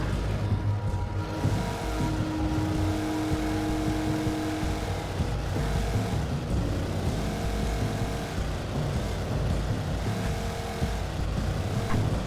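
A car drives in the video game Alan Wake Remastered, a steady engine drone with shifting revs and brief tonal whines, continuous and fairly loud with no talk.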